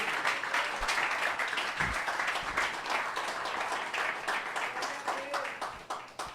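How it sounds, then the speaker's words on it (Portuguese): A church congregation applauds, a dense wash of many hands clapping at a distance that carries on and slowly fades. "Dê um aplauso ao Senhor Jesus."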